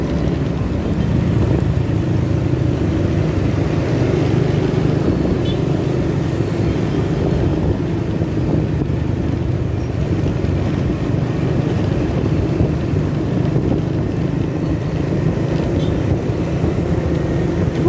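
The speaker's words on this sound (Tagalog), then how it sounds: "Long drive sa motor." Steady, loud low engine drone of a motorcycle cruising on a long drive on a cool day, with wind rumble throughout and no talking.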